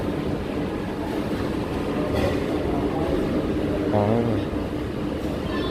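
Walt Disney World monorail train riding along its track, a steady rumbling rail noise filling the cabin throughout, with people chatting over it and a brief vocal exclamation partway through.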